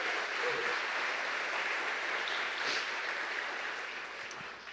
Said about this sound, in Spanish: ¿qué tal si tú mismo te das un fuerte aplauso